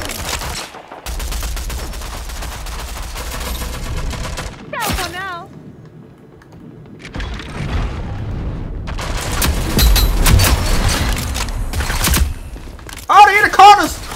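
Loud, near-continuous gunfire in the shooter Rogue Company: rapid automatic bursts and heavy booming shots that crackle in dense clusters, dropping away in short lulls before resuming, with a voice talking between bursts.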